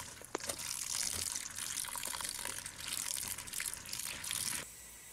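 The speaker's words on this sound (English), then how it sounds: "Thoroughly wash some split peas" Tap water runs in a steady, hissing gush while split peas (dhal) are washed, with faint rubbing and crunching of the grains, close by and fairly soft, stopping just before the end.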